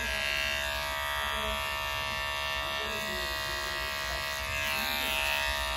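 An electric hair clipper hums continuously while cutting a medium fade, a steady close buzz that never stops, with no voices over it.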